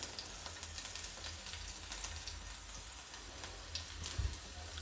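Finely chopped garlic frying in a pan for a dahi tadka, a faint, steady crackling sizzle with soft popping throughout and no voices.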